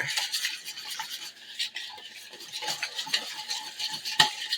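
Pinto bean bread batter of mashed beans and lukewarm whole milk being whisked in a bowl, brisk continuous scraping and clinking of the whisk against the sides, close and fairly loud, no talking.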